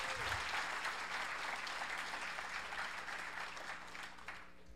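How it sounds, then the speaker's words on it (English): Conference audience at a Burning Man leadership gathering breaks into sustained applause, a broad wash of many hands clapping that holds steady and tapers slightly toward the end. "I think you should actually give yourself an applause as well."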